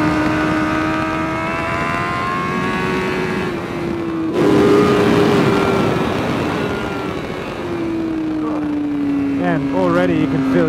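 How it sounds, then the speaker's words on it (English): A 2021 Honda CBR1000RR-R Fireblade SP on a race track drones loudly and steadily close by, its loud exhaust and intake pitch rising and falling with the throttle, while a voice talks over it near the end. "Man, it's a noisy bike. That exhaust is loud."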